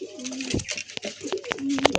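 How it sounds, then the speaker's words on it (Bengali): A male pigeon coos close by in a pigeon seller's coop in Kolkata, repeated soft throaty coos with a few sharp chirps and scuffs around them. "নর পায়রা আছে।"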